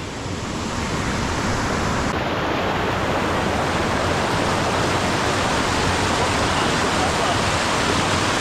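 Cold river water flowing during a river trek in Cagayan Valley: a continuous loud, dense rushing roar, close and steady throughout, with no voices.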